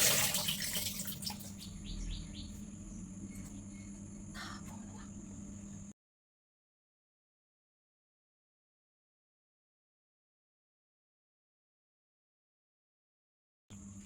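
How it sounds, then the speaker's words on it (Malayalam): Water drains from a cooking pot full of soaked ada rice flakes in a home kitchen, a steady close pouring and splashing that runs for about six seconds and then cuts to silence. "പിന്നെ നമുക്ക് ഈ വെള്ളം ഊറ്റി കളയാം."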